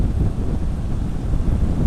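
Strong wind buffets the microphone on a Bajaj Pulsar 220F motorbike cruising at 80, a steady, loud low roar of rushing air filling the whole moment with no voices.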